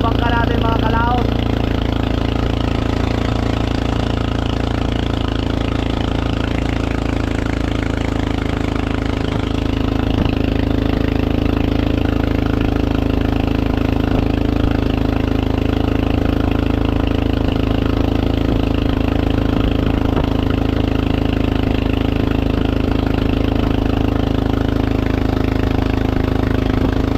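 A motorboat engine drones loudly and continuously, a steady low mechanical hum with no break, while voices speak faintly beneath it.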